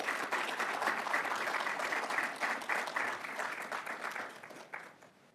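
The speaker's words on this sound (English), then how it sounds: "Let's give these graduates some applause." Applause from the audience at a transit operations graduation and promotion ceremony, many hands clapping steadily, fairly distant and even, tapering off toward the end.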